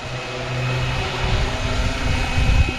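Flywing BO 105 RC helicopter landing, with a steady, loud motor whine and rotor drone that grows rougher and slightly louder toward the end.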